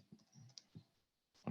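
Someone types a company number on a computer keyboard: a few soft, scattered key clicks, a quiet gap, then a louder burst of keystrokes at the end.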